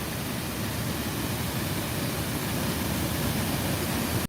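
Steady, loud rush of splashing water at an outdoor park, a continuous broadband wash with no breaks, heard alone.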